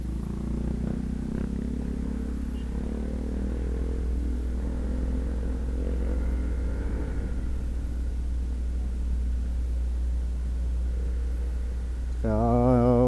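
A Honda Falcon 180i motorcycle engine idles steadily after a fresh oil change, a close, even low rumble that continues throughout, with a brief louder rev near the end.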